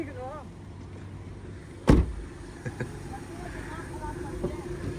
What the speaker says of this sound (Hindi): यहाँ से खोल रही है दरवाजे